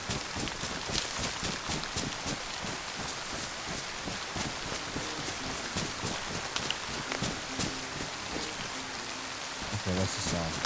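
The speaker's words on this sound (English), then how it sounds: "This rain is so freaking loud." Loud rain pours steadily in the video game DayZ, mixed with rhythmic footstep-like thuds and faint music underneath.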